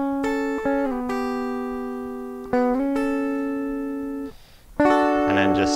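Clean electric lead guitar picks Christmassy sixth intervals in a festive song, with sustained paired notes that step and slide between positions in a few phrases, played alone and fairly close.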